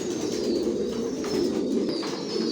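Adult racing pigeons of an original racer line coo in a loft, soft repeated throaty calls close by over a steady murmur of the flock.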